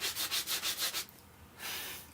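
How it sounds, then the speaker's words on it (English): A sanding block rubs lightly over a crafted surface, first in six quick, even back-and-forth strokes, then after a brief pause in one longer, smoother pass, close and soft. "Grab a sanding block and just lightly sand"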